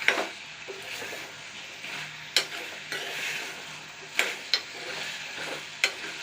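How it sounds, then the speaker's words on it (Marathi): Eggplant and potato masala frying in a pan while being stirred, a steady soft sizzle underneath with repeated sharp scrapes and knocks of the spoon against the pan, close and moderately loud. "आता हा मसाला चांगल्या प्रकारे फ्राय करून घ्या, म्हणजे वांगी चांगली परतून घ्या."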